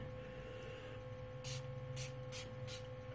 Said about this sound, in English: And then I go in with my setting spray from LA Colors.